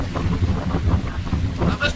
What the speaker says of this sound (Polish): Ale wiatr! Wyłączcie wiatr!